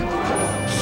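A forward aerial hit lands in a Super Smash Bros. Melee tournament match between Peach and Fox, a short crunchy smash impact over a steady dense wash of arena and game noise, with a commentator's voice in the mix.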